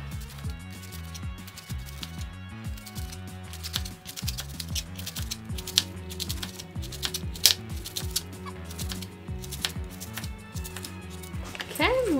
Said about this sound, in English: I don't like when cabbage is in like really thick chunks, so I'm gonna cut it pretty fine.